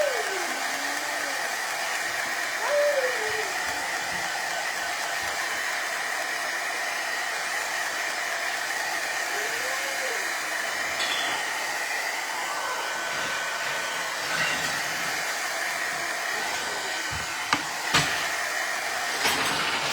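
Hair dryer blowing steadily and loudly on a Valentine heart hanger craft with a rag bow, a constant close whoosh that runs the whole time, with a few faint clicks and shifts in pitch.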